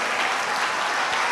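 An audience at a church-style speaking event applauds, a dense, steady wash of clapping filling the room at close range, sustained without pause.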